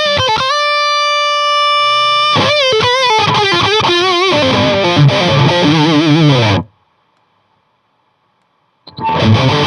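An electric guitar runs through a Boss Metal Zone distortion pedal into a boutique power amp, loud saturated chords and single notes that ring out, then cut to silence for about two seconds before a new strum starts.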